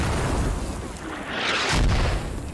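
Mortar explosions in the military game Squad, a dense rumbling roar with a sharper burst near the end, loud and close, filling the short stretch without any talk.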